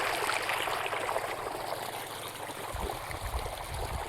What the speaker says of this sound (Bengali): এই দেখো, এটা যে জলটা আসছে এখানে, জলটা পড়ছে আর ঢুকছে মাঠে।